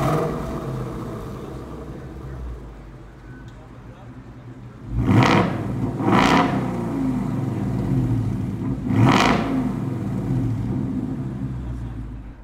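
A lowered 2016 Ford Mustang Roush engine revs hard in three loud surges, each rising and falling quickly, over a steady idling rumble close by.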